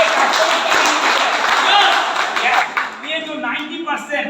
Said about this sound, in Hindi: एक तालियां चाहिए